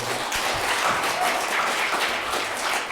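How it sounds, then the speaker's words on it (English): An audience at a community education event claps steadily, a dense, even patter of many hands lasting a few seconds without speech. "give a big round of applause for our"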